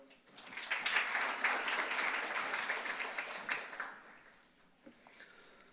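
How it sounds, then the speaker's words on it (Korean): Audience at an economic forum on China applauds to welcome a research fellow to the stage, a fairly faint, steady wash of clapping that swells and then tapers off. "박수로 맞아주시죠."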